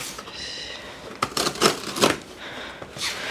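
Scissors cut open a cardboard parcel with a few close, crisp bursts of snipping and crinkling packaging, separated by short pauses.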